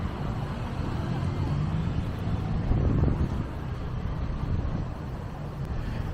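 Strong wind buffets the microphone in a constant low rumble in Tivoli, Italy, gusting a little louder midway, with no voices.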